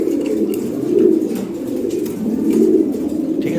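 Racing pigeons of a European bloodline coo together in their loft. Low, steady, overlapping cooing swells and fades close by throughout, with no talking.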